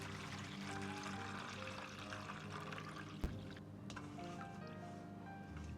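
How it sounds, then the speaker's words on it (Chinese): Clean water pours steadily into a large basin holding salt, a continuous liquid rush close to the microphone with one sharp knock partway through, in a home kitchen preparing green beans. "然后倒入清水"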